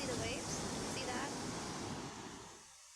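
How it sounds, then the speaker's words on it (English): Ocean surf rolls in at Baler beach, a surfing spot in Luzon, as a broad, steady roar of breaking waves mixed with wind that fades down near the end. "you see the waves? See that?"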